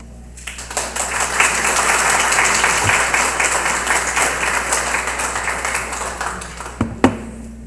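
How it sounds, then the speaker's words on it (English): Round of applause for a speaker at an interfaith iftar dinner, a dense, sustained burst of clapping that builds quickly and holds steady for several seconds before tapering with a few last claps. "Round of applause."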